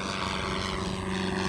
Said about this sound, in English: that airplane just took off